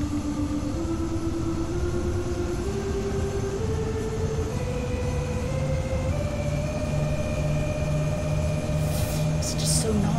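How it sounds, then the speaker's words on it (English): A rapid transit train in Train Sim World 2 pulls away with a rising electric motor whine and steady rumble, loud and close, with a faint squeal near the end. "Gotta get the sound of the train leaving though."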